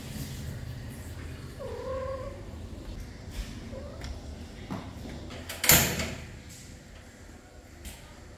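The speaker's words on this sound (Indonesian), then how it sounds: "Kalian lihat di sekitar aku nih, banyak banget kucing guys nih." Cats at a place to eat give two short, fairly faint meows over steady background noise, followed by a sharp clatter nearby.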